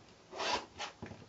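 Quilting fabric for a Birds in the Air block being trimmed, two or three quiet, close scraping cuts in quick succession.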